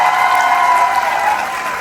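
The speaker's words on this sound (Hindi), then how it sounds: "उसके लिए बहुत तालियां बजाएं।" An audience applauds steadily at a student theater performance at Bahria University, a dense and fairly loud wash of many hands clapping that holds for the whole stretch.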